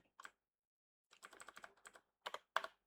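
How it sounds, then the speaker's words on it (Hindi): Computer keyboard typed on at close range while entering a command: an isolated tap, a quick burst of keystrokes, then two firm presses like Enter. "आपको सिंपल टाइप करना है CMD, ओपन करना है और यहाँ पे आपको ये क्लिक करके एंटर मार देना है।"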